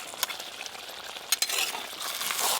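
Scraping stirs and a soft sizzle from a pan, with a couple of sharp clinks as boal catfish pieces are turned over in the hot oil.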